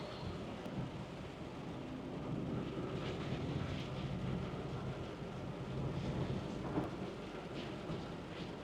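Steady rain pours down with a dense hiss, while low rumbles of thunder roll in the background.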